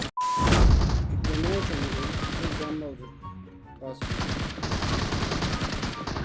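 Rapid bursts of automatic gunfire from a PUBG Mobile one-on-one match, loud and dense, with a player's voice talking over parts of the shooting.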